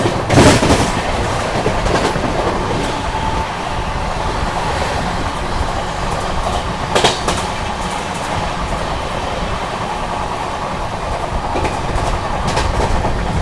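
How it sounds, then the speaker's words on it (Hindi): Poorvottar Sampark Kranti express train running at about 110 km/h in rain, a steady loud rumble and rattle of wheels on rails throughout, with a few sharp clacks over joints and no talking. "गाड़ी अपनी फ्लैट 110 भाग रही है"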